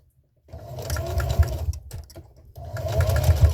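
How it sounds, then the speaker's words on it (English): A sewing machine stitches a washable reusable kitchen sponge filled with polyfill, running in two steady bursts with a short pause between, loud and close with a rhythmic motor hum and needle chatter. "Okay, so I'm going to go ahead and start sewing."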